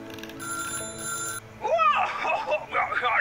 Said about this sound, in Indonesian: jadi ini telepon ya.